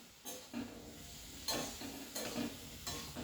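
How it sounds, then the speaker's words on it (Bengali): Mixed vegetables sautéing in a pan for a pea dal, a steady hiss under rhythmic scraping stirs that come roughly once a second, close and moderately loud. "আবার ভালো করে আমি সবজিগুলোকে কষিয়ে নিচ্ছি"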